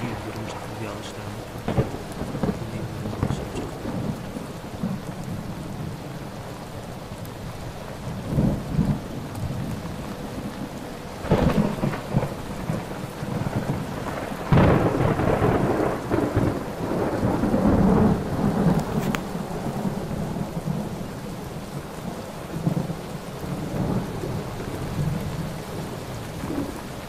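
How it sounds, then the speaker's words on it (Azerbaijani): Steady rain pours down through a thunderstorm in the Qoloda area of Zaqatala, Azerbaijan, with rolling thunder swelling loudly several times over the constant downpour; no one speaks. "Yağış yağır."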